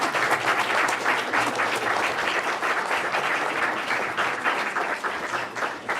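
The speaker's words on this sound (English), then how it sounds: "Let us applaud you for putting up." Dense, continuous applause fills the room at a school board meeting as the audience claps for parents, a loud, even wash of many hands lasting the full six seconds.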